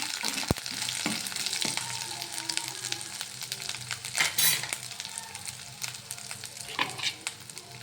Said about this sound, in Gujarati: પછી હળદર, ત્યારબાદ ધાણા પાવડર। હવે સરસ મિક્સ કરી લેવાનું છે।